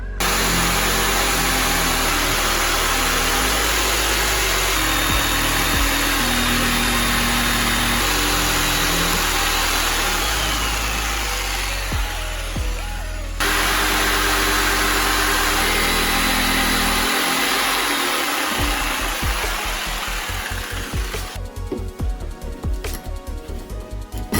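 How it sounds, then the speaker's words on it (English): A jigsaw cuts a curve in wood for a wooden toy, a loud continuous buzzing motor drone whose pitch shifts partway through, ending in a rapid rattling chatter. "we're going to take a jigsaw made enough room for the saw blade to go in, and we're just going to go round and follow that curve"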